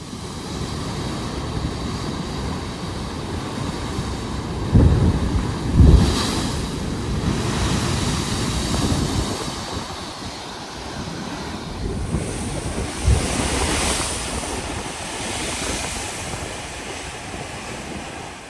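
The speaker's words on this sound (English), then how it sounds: "The waves crashing into the rocks were so loud and powerful." Ocean waves crash into sharp volcanic rocks on the west coast of Puerto Rico, a loud roaring surf with a few heavy thuds from breaking waves, buffeted by wind noise, with no talking.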